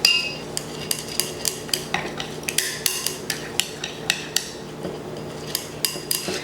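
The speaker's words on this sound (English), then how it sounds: "we're going to go ahead and mix our formulation together" Whipped shea butter formulation being mixed in a bowl, the utensil clinking and scraping against the container in a steady run of sharp, close strokes roughly every third of a second, with no talking.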